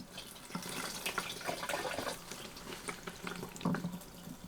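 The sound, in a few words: fuel flowing into XR 400 motorcycle fuel line and tank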